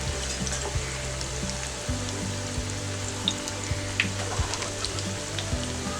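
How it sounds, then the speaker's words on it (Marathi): Potato and cauliflower bhajiya fry in oil over a low flame, a continuous close crackling sizzle dotted with small pops, with occasional soft knocks of a utensil and no talking. "स्लो ते मीडियम गॅसवर आपण हे फ्राय करून घेऊया"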